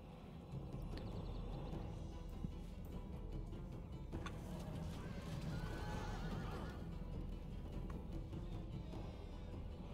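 Horses neigh and whinny in a medieval strategy video game battle, over a steady background rumble, with hooves clopping and a busy, continuous din underneath.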